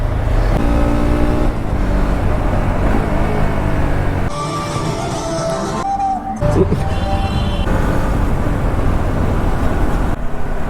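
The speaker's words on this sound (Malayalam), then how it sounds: "വണ്ടി ഭയങ്കര ഒരു അഗ്രസീവ് ത്രോട്ടിൽ റെസ്പോൺസ് ആണ് കേട്ടോ വണ്ടി അങ്ങ് പോകും" A Bajaj Dominar motorcycle engine revs with sharp, aggressive throttle bursts, rising and dropping in pitch over steady road noise, fairly close and sustained throughout.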